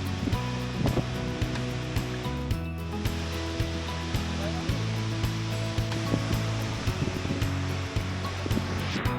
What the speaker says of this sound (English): The waterfall has its own charm and essence.